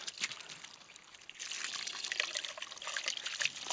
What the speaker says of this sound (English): Putting this hose right here in the sluice box.